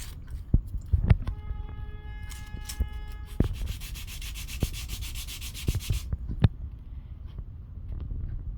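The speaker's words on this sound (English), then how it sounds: "So I'm just gonna sand it out like this." Hand sanding scrapes red paint off an aluminum Fast 92 intake manifold on a Corvette C5 Z06, a close, steady rubbing with light taps and a brief squeaky tonal rasp early on, quiet and without talk.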